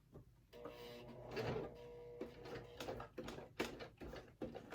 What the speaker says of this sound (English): I'm going to pivot and sew straight across, then up to the other line that you've sewn.